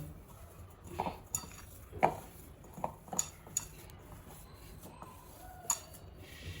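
A spoon mixes boiled grated potato with salt, oregano, chili flakes and pepper powder in a bowl, making soft, scattered clinks and scrapes against the bowl at a quiet, close level.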